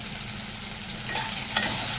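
Garlic sizzles steadily in hot oil, a constant crackling hiss with a couple of brief sharper pops as it is stirred.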